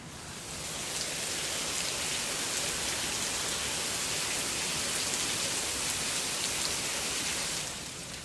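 Steady rain falling, a dense even hiss of drops on surfaces that fades in, holds constant for several seconds, then eases off at the end.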